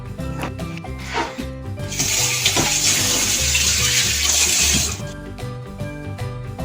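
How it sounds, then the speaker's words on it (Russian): Cabbage leaves are rinsed under a running tap for about three seconds, a loud close gush of water over the leaves, framed by rustling and handling knocks before and after. "Сейчас я тогда мою как следует листья и приступаю к рубке капусты."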